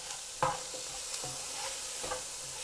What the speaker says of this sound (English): In goes the tomatoes.